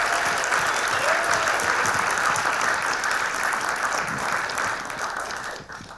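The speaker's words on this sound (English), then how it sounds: "Huge round of applause." An awards show audience breaks into sustained, dense applause filling the room, steady and loud before tapering off near the end.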